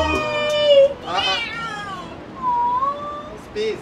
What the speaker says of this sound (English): The cat is scratching Rico real bad